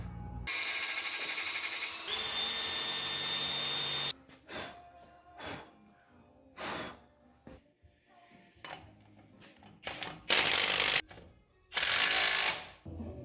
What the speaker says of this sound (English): cut this top of the bracket off and just drill a hole here